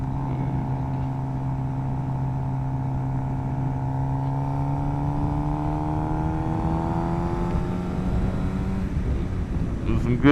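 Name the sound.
Suzuki GSX-R 750 motorcycle hard acceleration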